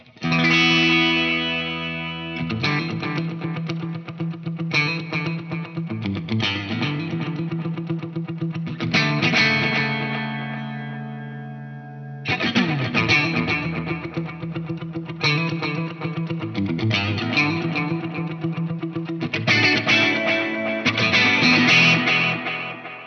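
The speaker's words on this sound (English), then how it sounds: "Let's go for a dotted eighth, just so you can really hear what I'm going to do with the tap tempo." Electric guitar played through a Line 6 HX Effects unit with a dotted-eighth delay set by tap tempo. Loud melodic phrases trail off into rhythmic repeating echoes, with a brief lull near the middle before the playing resumes.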